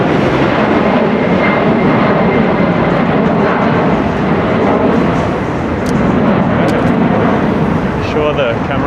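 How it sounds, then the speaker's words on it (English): Steady broadband jet engine roar of an airplane taking off from London City Airport, loud and continuous, with wind-like rumble filling the whole clip. "That's the sound of a flight taking off from that London City Airport."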